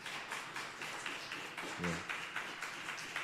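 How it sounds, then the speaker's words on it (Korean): Church congregation applauding to welcome a missionary: steady, dense clapping from many hands fills a hall at moderate volume, with a brief low voice murmuring midway. "우리 선교사님 나오실 때 박수로 환영해 주시면 감사하겠습니다"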